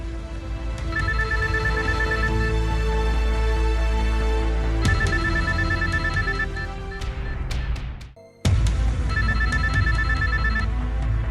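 A telephone rings loud and close with a repeating electronic ringtone pattern, pausing briefly near the end before starting again, no one speaking over it.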